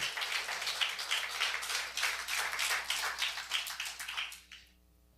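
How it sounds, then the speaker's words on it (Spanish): A congregation claps along at a church worship service, sustained rhythmic clapping filling the room for several seconds before stopping abruptly. "Aplaudan al Señor"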